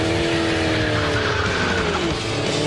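Race car tires skid and squeal in the video game Ford Racing 2, a loud sustained screech over steady engine roar, continuous and close throughout.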